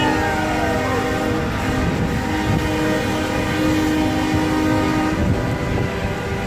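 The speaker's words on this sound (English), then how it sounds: "Let's get some honky honkies." Truck horns blare in long, sustained, overlapping tones through city streets gridlocked by a convoy protest, a loud continuous chorus with a deep engine rumble beneath.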